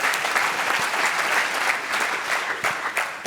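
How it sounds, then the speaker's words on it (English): An audience at the 2014 MEDy Awards breaks into sustained applause, a thick, even wash of many hands clapping that stays strong throughout and eases slightly toward the end. "give all of them a round of applause before we get to the actual awards"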